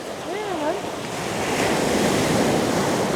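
Ocean surf breaking at a beach in Samar, a steady broad wash of waves with wind buffeting the microphone, growing slightly louder toward the end; a brief whistle-like tone sounds near the start.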